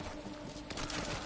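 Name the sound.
automatic turret firing in a video game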